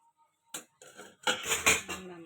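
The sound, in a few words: lid placed on cooking pan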